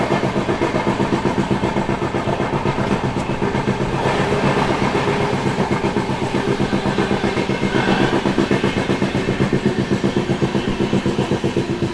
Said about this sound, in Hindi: यहाँ पे ओवरटेक हो रहा है चंडीगढ़ मदुरई सुपरफास्ट